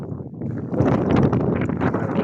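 Cold wind blowing high on Pico de Teide during a mountain ascent, a steady broadband rush buffeting the microphone and swelling louder midway, with no talk.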